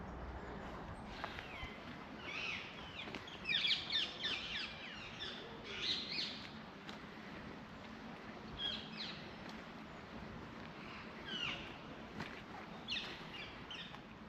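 Wild parakeets in Graves Park give scattered, sharp chirping calls over quiet outdoor background noise, coming in irregular bursts, some fairly close and others more distant.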